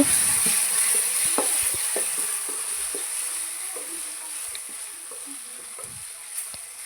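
Spoonfuls of turmeric and ground spice powder stirred into an egg masala frying in a pan, a steady soft sizzle with scattered scraping and tapping clicks from the spoon, close and moderately loud throughout.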